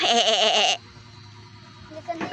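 A human voice imitates a goat or horse with a loud, wavering bleat lasting under a second, followed by quiet room noise.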